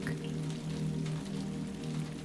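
Rain pattering on a camper canopy over a sleeping nook, a soft, steady, dense drumming with a low hum beneath, continuous and fairly quiet, with no voices.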